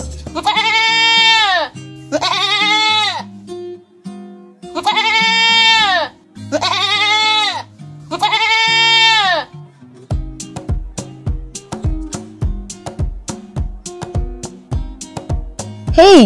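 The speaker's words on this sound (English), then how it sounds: "Goat. And the sound of the goat is..." A goat bleats five times in long, wavering calls, loud and close, followed by bouncy music with no talking.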